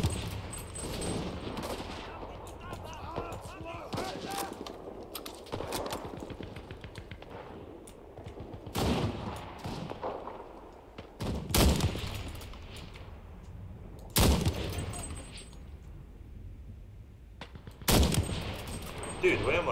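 Gunfire in the shooter Enlisted, with sharp, loud shots and short bursts breaking out every few seconds over a quieter backdrop of distant battle noise and faint activity.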